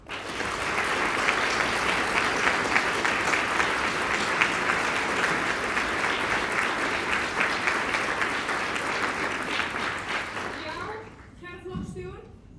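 Sustained applause from a party meeting audience, loud and dense for about eleven seconds before fading out, followed by a brief spoken voice at the end.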